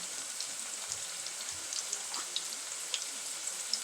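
Diced onions fry in a pot, giving a faint, steady sizzle with tiny crackling pops throughout, no voices.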